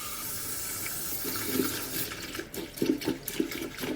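Water runs steadily from a tap, splashing and gurgling over lettuce being rinsed, with a few soft wet knocks and thumps near the end.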